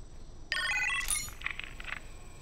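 An in-game telephone rings in Iron Man VR: a bright electronic ringtone, one short trilling burst followed by fainter echoing tones, clear and close against a quiet background.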